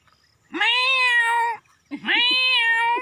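A voice mimics a tomcat on a village farm, giving two drawn-out, close meows with a short pause between them.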